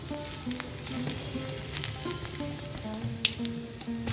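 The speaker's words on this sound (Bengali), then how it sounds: "ফোড়নটা ভালোভাবে একটুখানি ভেজে নেব" Whole spices sizzling in hot mustard oil, with the five-spice mix, dried red chillies and a bay leaf crackling and spitting in a pan. The sound is close and continuous, with a faint hum in the background and no talking.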